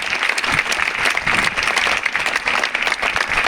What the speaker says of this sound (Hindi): आपकी एक गड़गड़ाहट के साथ तालियां बजाकर इनका स्वागत